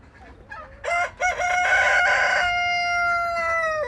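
A rooster gives a loud, close crow in a caged enclosure, the long call rising and then holding, with brief chicken clucks before it.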